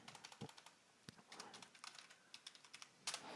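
Someone types a user ID and password on a computer keyboard to log in to SAP. Quiet, close, irregular key clicks come in quick bursts with short pauses between them.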